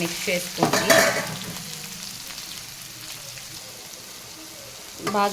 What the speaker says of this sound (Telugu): ఆనియన్స్, కట్ చేసుకున్న ఆనియన్ ముక్కలు, అలాగే పచ్చిమిరపకాయ ముక్కలు వేస్తున్నాను